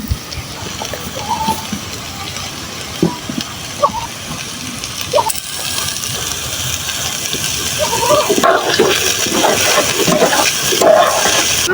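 Tomatoes and prawns hit hot oil with frying onion fritters, producing a rising, steady sizzle and hiss with occasional clinks of utensils, growing louder toward the end.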